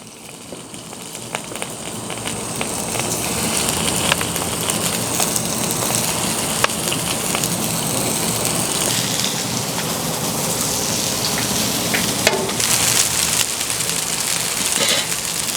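Meatballs sizzle on a Blackstone griddle, a loud continuous close hiss with crackling pops that rolls on steadily throughout.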